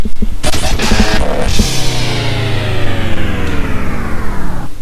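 A fuel truck's engine revs up loudly and close, a rising harmonic drone that climbs steadily and holds strong for several seconds.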